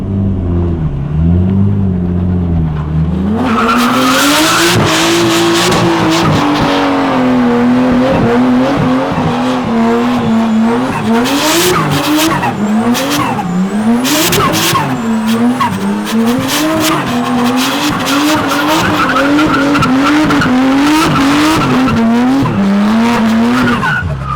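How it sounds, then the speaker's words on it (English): A Nissan Skyline R34 does a burnout: a loud, close engine revs hard while the tyres squeal and skid continuously, the pitch rising and falling with each throttle blip over a sustained roar. "That's the best burnout we've seen so far."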